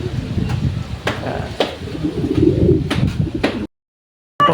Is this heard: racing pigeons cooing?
yes